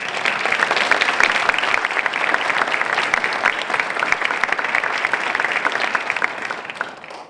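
A dense round of applause from a large crowd at an outdoor contest award ceremony in Kemper Memorial Park, steady and loud throughout, tapering slightly at the end.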